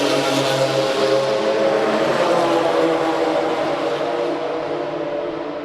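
A Porsche RSR race car roars past at Sebring during historic sportscar racing, a loud passing engine note that fades as it moves away.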